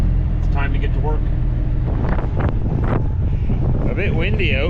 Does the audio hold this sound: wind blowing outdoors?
yes